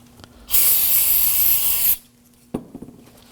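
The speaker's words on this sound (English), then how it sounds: "we're going to use brake parts cleaner." Brake parts cleaner sprayed onto parking brake hardware of a 2014-2020 Acura MDX: one steady, loud aerosol hiss lasting about a second and a half, followed by a few faint clicks and taps of handling.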